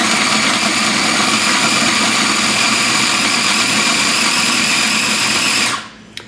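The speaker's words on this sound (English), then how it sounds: "We're going to put it in the processor," A food processor grinds sambal paste in a steady, loud, continuous whir that runs unbroken for several seconds, then cuts off abruptly near the end.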